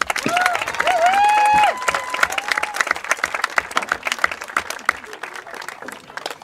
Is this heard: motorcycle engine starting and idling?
no